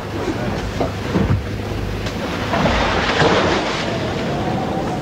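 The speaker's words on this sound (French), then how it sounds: "il va falloir négocier un orage avec son cortège de bourrasques et de vagues menaçantes" Rough, blustery wind from a thunderstorm at sea off Cape Horn buffets the microphone over a broad roar of surging waves, with gusts swelling louder partway through.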